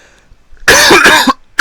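A person coughs a few times in quick succession, a loud burst near the mic lasting about half a second, then a short renewed cough at the very end, with quiet room tone between.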